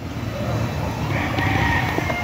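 Chickens and roosters on a farm in Montalban, Rizal, with fowl calls rising over a steady outdoor rumble that may include passing traffic; the crowing is moderately close but partly buried in the background.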